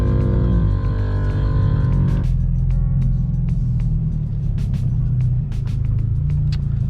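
A lowered 2022 Subaru BRZ on air suspension pulling away, its loud engine drone steady and close with a low rumble throughout, a tonal whine fading after a couple of seconds and light clicks and rattles over the top.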